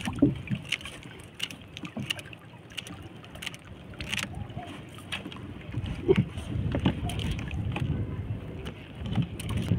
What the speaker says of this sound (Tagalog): Yusin mo natin yung bangka.